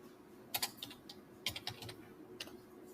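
Quiet keystrokes on a computer keyboard while an SQL insert command is entered, short clusters of clicks separated by brief pauses, close and faint with no speech.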